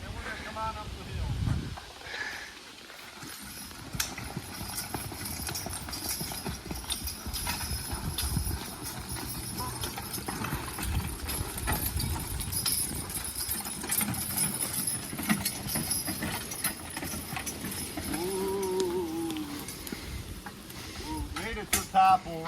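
A logging horse walks up a hill with its working gear, hooves giving a soft, steady clip-clop among rustling and creaking, with a voice talking intermittently over it.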